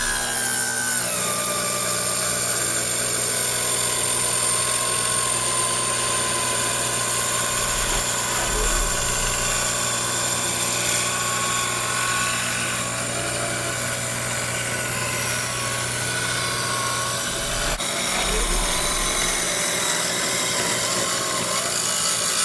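A power saw ripping wood for a model ship mast stock, a steady loud motor drone with a high whine and the grinding of blade through timber throughout, with a couple of low thumps.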